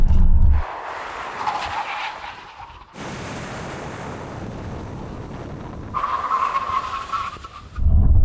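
An Audi S8 braking hard in a test, tires skidding with a long rising screech after the engine note cuts, then a second squeal before the engine roars back near the end.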